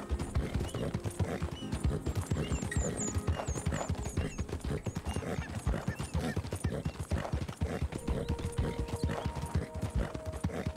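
Horse hooves clip-clop steadily in Red Dead Redemption 2, a dense, continuous rhythm of hoofbeats close up, with an occasional faint whinny and no talk over it.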